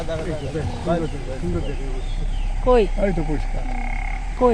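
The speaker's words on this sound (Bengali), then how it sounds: "ব্যাঙের ডাক দেখো।" Frogs croak in short, repeated bursts in the Chilapata forest, heard at moderate distance while people talk over them.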